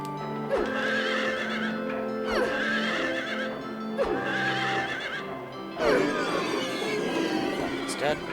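Several creepy horses neigh and whinny in Silent Hill 3, four loud drawn-out calls spaced a couple of seconds apart over a droning game soundtrack, with faint hoof clops.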